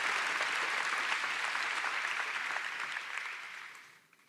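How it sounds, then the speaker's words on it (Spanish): A church congregation applauds during a sermon, dense sustained clapping from many hands in a large room, fairly distant, tapering off toward the end with no voices over it. "Dale ese aplauso más fuerte al Rey de Reyes y Señor de Señores."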